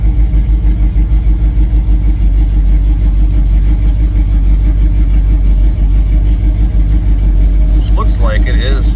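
A 1st-generation Camaro engine idles close by, a loud, steady rhythmic low rumble that continues throughout, with a voice speaking briefly near the end.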